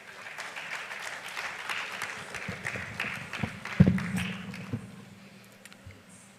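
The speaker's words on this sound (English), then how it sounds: "A round of applause," An audience at a poetry, music, dance and art event applauds, steady mid-level clapping that swells briefly in the middle and then tapers away, with some low background rumble.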